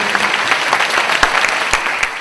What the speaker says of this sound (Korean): 우리 예배를 받으신 하나님 앞에 우리 감사와 찬양의 큰 박수를 나눠드립니다